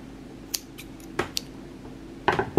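Scissors snip excess yarn on a crochet bag, giving a few light, close snips spread out, then a quick pair of crisper cuts at the end, with no talking.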